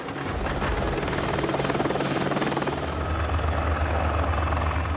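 A Tiger combat helicopter of the 1st Combat Helicopter Regiment thunders close by with a fast rhythmic rotor chop over a loud turbine roar, and the tone shifts partway through as it moves.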